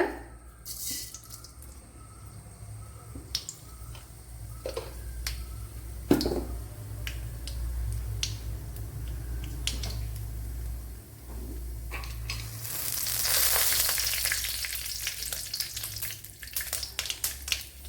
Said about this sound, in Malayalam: അതിലേക്ക് ഇനി കടുക് ഇട്ട് കൊടുക്കുക.